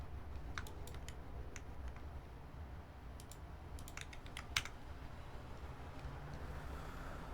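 Keys clack on an Alps Frog Mini mechanical keyboard, a quick irregular run of close, crisp keystrokes over a low steady background hum.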